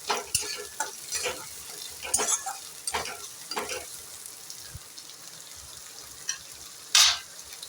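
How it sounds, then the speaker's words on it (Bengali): Chopped onions fry in hot oil for a pointed gourd and prawn mash, giving a soft, steady sizzle broken by stirring scrapes and a sharper clink near the end, with no talking. "পেঁয়াজটা একটু ভাজা হোক।"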